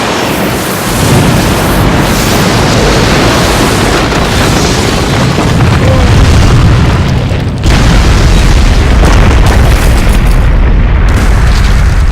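A fire style jutsu explosion in Naruto Shippuden: Ultimate Ninja Storm Revolution, a loud, dense roaring blast that rumbles continuously for several seconds and swells again partway through, with no speech over it.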